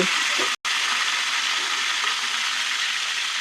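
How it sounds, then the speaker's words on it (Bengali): Stuffed pointed gourds (potol) filled with minced meat fry in hot oil, giving a steady, dense sizzle that runs unbroken except for one brief dropout near the start. "এইভাবে আমি সব পটলগুলোকে ভেজে নেব"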